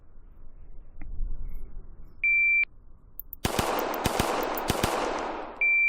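A Sand Viper rifle fired at an outdoor range, a quick string of sharp shots near the end after electronic beeps, loud and close.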